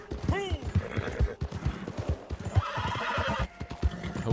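A horse in the Red Dead Online video game whinnies once, then its hooves clip-clop in a quick, steady rhythm with other game sounds and some speech mixed in.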